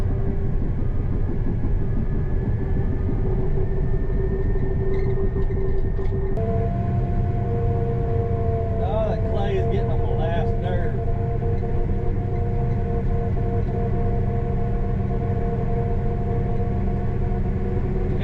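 A CAT D6 bulldozer pushes dirt at a landfill fire site, its engine a steady, loud drone with a brief shift in pitch partway through and faint clanks over the rumble.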